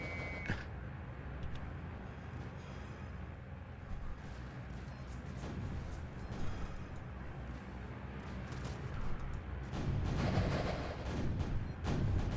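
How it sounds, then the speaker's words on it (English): Grenade blasts and gunfire in a World War II tower defense video game rumble in frequent bursts, moderate in level and layered over a constant battle din, with a denser cluster of explosions near the end. "there are a lot of explosions and flashy lights"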